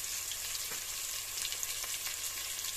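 Onions frying in a pan with a pinch of salt, giving a faint, steady crackling sizzle throughout with scattered small pops.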